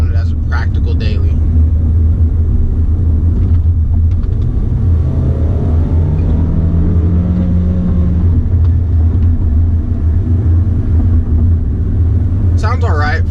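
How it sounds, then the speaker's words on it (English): 2016 Volkswagen Jetta SE 4-cylinder TSI engine, a loud low rumble with a rising revving tone building in the middle, under brief talk at the start and end. "Sounds alright for a 4-cylinder once you get it all the way up there."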